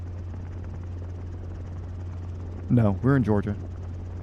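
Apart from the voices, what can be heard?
helicopter in flight during solo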